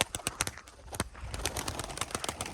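Pigeons cooing and fluttering close by, a busy run of repeated soft calls with some wing flaps and rustling, no voices.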